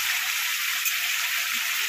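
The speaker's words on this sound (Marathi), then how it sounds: "तेल छान गरम झालेलं आहे, त्याच्यामध्ये आपण कारलं घालून घेऊया।" Sliced bitter gourd (karela) fries in hot oil, making a loud, dense, unbroken hiss of sizzling that holds steady from start to finish.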